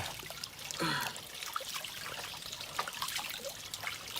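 Water trickles and dribbles steadily at a spring by the entrance to a hidden town, a close, continuous wet babble with small splashy bursts and no talking.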